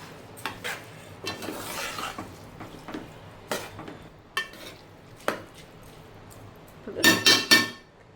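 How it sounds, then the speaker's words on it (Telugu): A spoon stirs a chicken biryani mixture with fresh mint in a pot, giving repeated scraping strokes and light metallic clinks, ending in a cluster of louder clanks against the pot, with no talking. "ఇప్పుడు దీని అంతటినీ ఒకసారి కలిపేసుకుందాము. కొంచెం పుదీనా యాడ్ చేసుకొని, కొద్దిగా పుదీనా ఒకసారి మొత్తం కలిపేసేసుకోవాలి."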